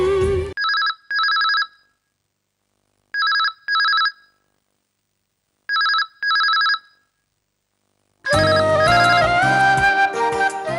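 A telephone rings in three paired bursts separated by pauses, clear and fairly loud, before music swells in at the end.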